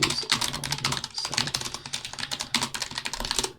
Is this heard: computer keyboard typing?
yes